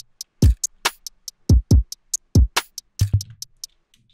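Short percussion hits triggered via MIDI in FL Studio for a trap drum beat, a loose pattern of about a dozen sharp, dry clicks and thumps over four seconds, with no other sound.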